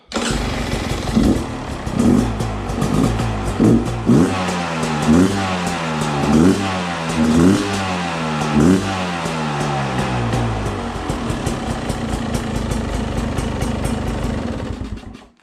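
A 2021 Beta 300 RX dirt bike engine with stock exhaust revs repeatedly in quick bursts, rising and falling over a loud rumbling idle, close up and continuous.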